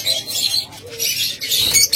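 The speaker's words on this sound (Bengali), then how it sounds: "আপনাদের যদি প্রথমে আমরা ডিমওয়ালা লাভবার্ড পাখিগুলো দেখাই, দেখুন" Lovebirds carrying eggs chirp in a cage, a run of bright, high twittering calls from several birds, close by and continuous, with brief softer gaps between bursts.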